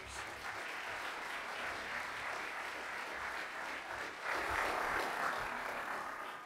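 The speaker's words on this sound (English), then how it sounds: "please join me in giving a round of applause and welcome all of our speakers" Panel audience applauding to welcome speakers at a public forum: continuous, fairly faint, distant-sounding clapping that swells slightly toward the end.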